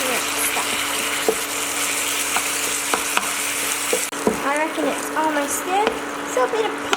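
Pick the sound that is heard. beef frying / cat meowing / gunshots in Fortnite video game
beef frying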